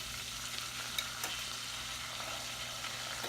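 Melting butter and a few teaspoons of jam are stirred in a pan for roast duck, giving a low continuous sizzle with a few faint spoon scrapes, quiet and steady, without talk.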